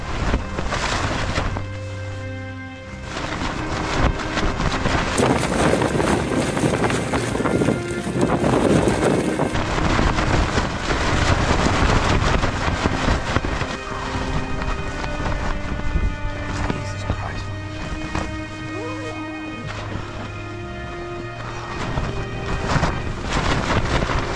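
Strong wind batters tents at a campsite, roaring and gusting continuously with heavy buffeting on the microphone and flapping fabric throughout, with no talk.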